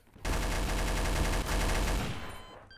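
Sustained rapid gunfire in Garry's Mod DarkRP, a dense loud burst of automatic shots running for about two seconds with a brief hitch midway, then tailing off into a short decay.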